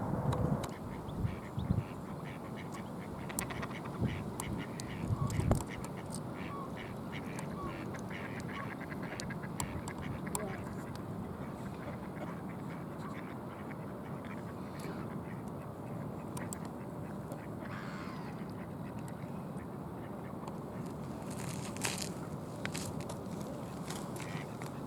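Mallard ducks quack at a pond on a cold, windy day, several birds calling repeatedly at close to middle distance over steady wind rumble, with a few louder bursts early on.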